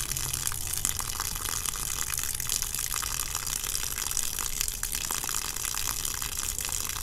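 Water gushing steadily from a garden hose into a solar shower bladder, a constant close rushing flow with no pauses.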